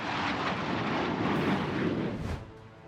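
A marine fighter jet roars past with a loud, broad rushing thrust that swells and then fades over a few seconds, with no talk.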